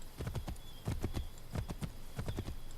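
A horse's hooves beat in fast, rhythmic groups of several strikes in Assassin's Creed III video game, a clear galloping pattern close up and fairly loud.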